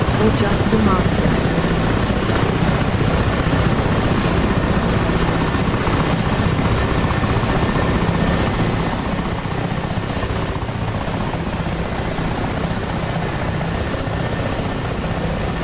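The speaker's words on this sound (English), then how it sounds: "whilst you can hear the choppers" Helicopters fly in a combat flight-sim video game such as DCS or War Thunder, their rotors a loud, continuous thrumming drone that fills the whole stretch and eases slightly toward the end.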